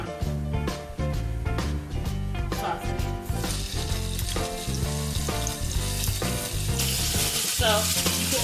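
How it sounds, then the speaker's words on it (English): Slices of turkey smoked sausage fry in a skillet with a continuous close sizzle, broken by repeated scraping and stirring clicks from a utensil, the crackle growing brighter toward the end. "So you put those in the skillet, just let them fry them just a little bit"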